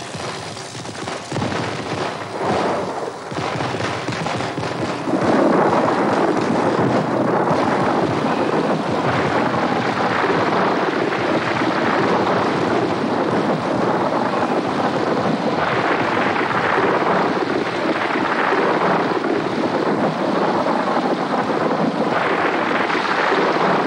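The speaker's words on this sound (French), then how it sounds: "Je ne pardonnerai jamais d'avoir déclenché l'orage en essayant quelques-unes de mes fusées" Thunderstorm with a constant, loud roar of wind and heavy rain and deep rumbling thunder that builds after a few seconds and persists steadily throughout, with no voices.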